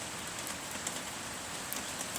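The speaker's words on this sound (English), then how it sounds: "There's the rain." Rain falls outside in a soft, steady hiss with occasional sharper drop taps. It is faint and even, with no voices.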